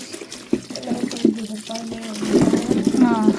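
Water runs from a tap, splashing steadily into a sink while people talk close by.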